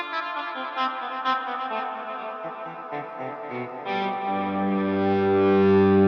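Electric guitar run through an effects unit with heavy distortion, voiced to sound like a thick, weighty cello: a sustained melodic line of bowed-like notes that swells into a loud, low held tone at the end, with no talking.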